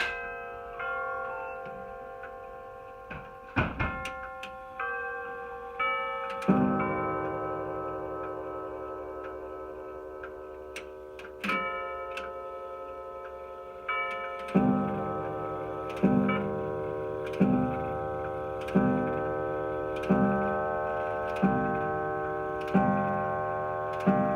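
A Waltham grandfather clock ticks steadily and close by, a sustained chime sounding over the beats; a deep, resonant ringing tone keeps re-striking in a regular rhythm through the second half.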